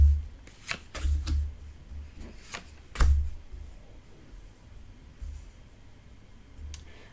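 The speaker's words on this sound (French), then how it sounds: "Alors, je vais choisir 3 cartes." A tarot deck is handled and shuffled at close range, with a few quick riffling bursts and soft card slaps in the first seconds, then quieter shuffling and rustling in a calm room.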